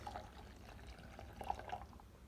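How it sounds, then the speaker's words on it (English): Warm water poured into okpa (Bambara nut) flour mixture in a bowl, a soft steady trickling pour with a few brighter splashy glugs midway, fairly close and quiet. "When you pour the water,"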